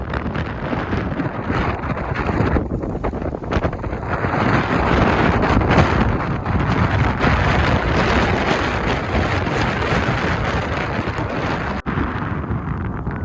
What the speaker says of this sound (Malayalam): നല്ല കാറ്റല്ലേ.